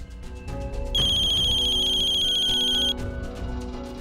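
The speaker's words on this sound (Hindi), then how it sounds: "आशीष को फोन करती हूँ।" A phone's electronic ringtone trills steadily for about two seconds, clear and fairly loud over a low background hum.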